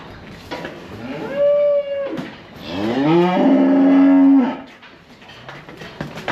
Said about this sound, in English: I think there's roughly about 85 cows in this young herd here